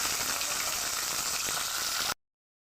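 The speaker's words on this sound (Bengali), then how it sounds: "দুটো দুটো করে আমি মাছ ভেজে নেব" Parshe fish fried two at a time in mustard oil in a wok, a short, steady, close crackling sizzle that cuts off abruptly.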